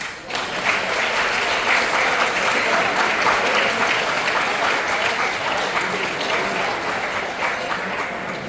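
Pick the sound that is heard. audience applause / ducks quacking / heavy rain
audience applause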